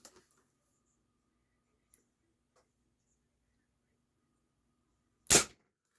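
A single sharp report from a Springfield Armory M1A .22 air rifle being velocity tested, a lone crack after near silence with a few faint clicks before it.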